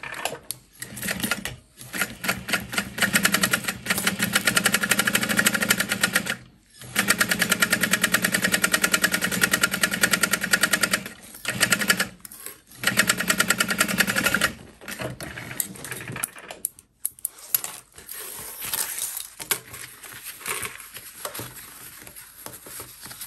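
A sewing machine top stitches a backpack in several loud, steady runs of rapid needle chatter, each broken by short pauses, then lighter irregular handling noises toward the end.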